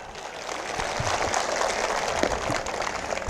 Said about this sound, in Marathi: एकदा सगळ्यांसाठी जोरदार टाळ्या वाजवा.